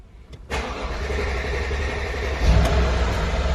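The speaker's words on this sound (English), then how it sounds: "what I'm going to show you is go to crank the engine. It's going to take quite a bit to start it up." Car with a faulty camshaft position sensor that starts hard: a few faint clicks, then the engine catches suddenly and runs loudly, rising to a deeper rev near the end.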